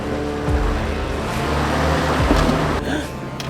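A Nissan Patrol 4WD lumbers up the Rocky Track off-road climb at Toolangi, its engine a low, steady drone with rumbling hums and some bumps, close and loud throughout.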